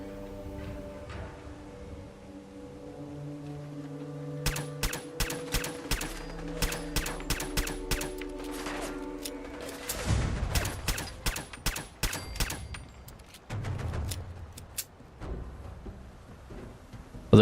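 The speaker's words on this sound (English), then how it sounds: "When all else fails, high volume explosive fire doesn't." High-volume explosive gunfire in Fallout 4, with long runs of rapid, sharp shots cracking in a steady stream over a droning musical background, the firing growing denser and heavier in the later part.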